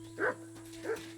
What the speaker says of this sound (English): are these wild dogs? Am I just running up on wild dogs right now?